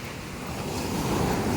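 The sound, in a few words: sea waves at White Beach, Puerto Galera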